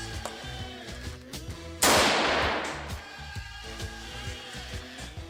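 A single loud gunshot at a shooting club range cracks out and fades in a long reverberant tail, set against a steady rhythmic background.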